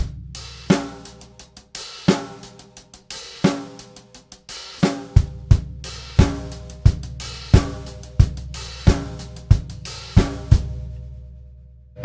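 A drum kit plays a disco groove, with a steady four-on-the-floor kick, snare backbeats and busy hi-hats, heard alone and close. The pattern shifts partway through into a second groove.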